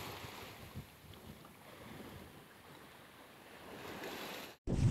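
Steady wind rushes across the microphone aboard a sailboat at sea, with a low wash of water beneath, broken by a brief dropout and a loud thump at the end.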